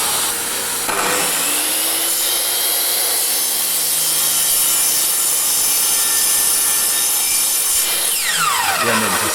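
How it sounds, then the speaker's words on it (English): Miter saw set at 20 degrees scoring partial guideline cuts in scrap hardwood, a loud continuous whining motor with the blade biting and grinding through the wood, spinning down near the end. "I'm going to use the miter saw again, 20 degrees. I'm not cutting all the way through"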